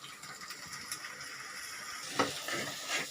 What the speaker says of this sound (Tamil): இந்த அரைச்ச மசாலாவை எண்ணெய் பிரிகிற வரலும் வதக்கணுங்க நம்ம இதிலே ஊற்றிடலாம்